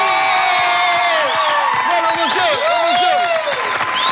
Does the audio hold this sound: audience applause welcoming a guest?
yes